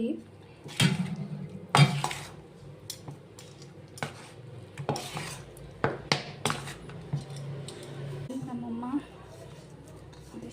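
Hot syrup being mixed by hand in a metal pot, with repeated clanks and scrapes of utensil against the pot at irregular intervals, close and fairly loud, while someone talks over it.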